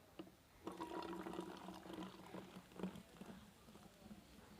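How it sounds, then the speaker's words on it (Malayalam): Soda is poured slowly into a mixture to make homemade 7UP, producing a soft, continuous fizzing and liquid pour for several seconds that then gradually tapers off at low volume. "നന്നായി പതച്ച് വരുന്നുണ്ട് കേട്ടോ."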